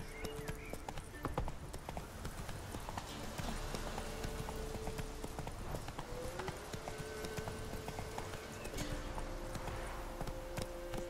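Roach the horse gallops in The Witcher 3, hooves clip-clopping in a fast continuous rhythm close by, with faint game music and brief voice underneath.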